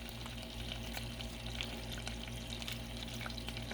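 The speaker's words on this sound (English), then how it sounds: "it's cooking up quick already. And it's popping and bopping and sopping and sobbing" Ghee cooking on a hot griddle gives off a steady close sizzle with scattered small pops and crackles throughout, no voices.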